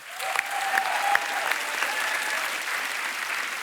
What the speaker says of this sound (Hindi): लेकिन एक बार तो जोरदार तालियां यार